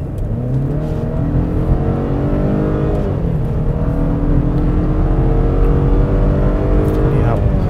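A Mercedes-Benz E-Class in sport mode accelerating hard on a closed test track, its engine loud and close throughout, the pitch climbing and dropping back with each gear change over a continuous road roar.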